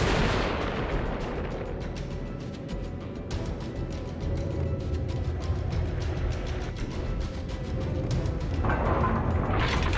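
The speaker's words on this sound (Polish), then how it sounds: "Artyleria dodatkowa próbuje tutaj trafić tego Talina." Secondary guns of a ship in World of Warships fire at the Tier VIII Russian cruiser Tallinn, with rapid repeated sharp reports and booms over a constant low rumble, continuing throughout without voices.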